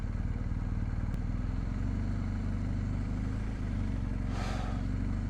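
A motorcycle rides through an empty Deansgate, its engine holding a steady, even drone throughout, with a faint airy whoosh passing near the end and no voices.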